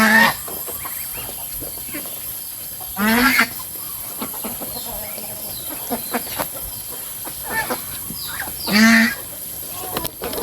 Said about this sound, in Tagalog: yun na aking mga gansa ka farmer oh